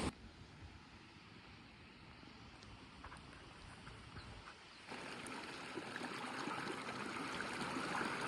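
Water rushes through a village irrigation channel in a steady, faint broadband hiss and gurgle that grows slightly louder partway through, with no voices.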